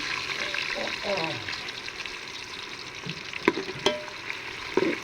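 Onions and green chillies sizzle in a pan while a spoon stirs them, giving soft continuous frying with a few sharp scraping clinks, and a voice speaks over the cooking.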